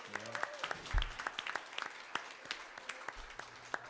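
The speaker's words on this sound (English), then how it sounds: "let's give them some applause" A church congregation claps for about four seconds, a sparse, uneven patter of individual hand claps at moderate distance in a reverberant room.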